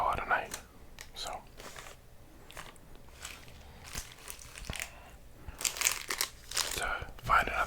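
A Crunch bar's candy wrapper crinkles in close, crisp bursts between softly whispered speech, irregular rustles that grow louder near the end.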